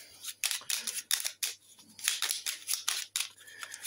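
Shuffling a pile of cards at a board game of Lost Ruins of Arnak, a string of quick, crisp riffling and sliding bursts with short pauses between them.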